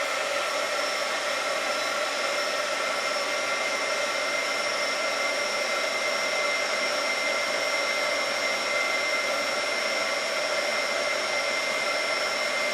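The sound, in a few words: heat gun melting embossing powder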